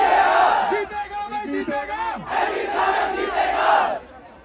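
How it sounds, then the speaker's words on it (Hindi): A large, dense crowd at a fan meet-up in Gurgaon hoots and cheers loudly and continuously, with rising chants and yells that hold for several seconds before cutting off. "एक बार लास्ट बार हूटिंग मारते हैं"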